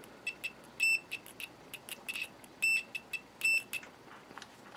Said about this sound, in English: So let's start out with the good old continuity buzzer.